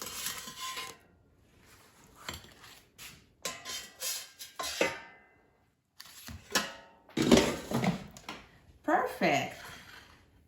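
Frozen Jamaican beef patties being lifted out of an air fryer basket, with a run of metallic clatters, scrapes and knocks from the basket and utensils, close and fairly loud, mixed with bursts of talk.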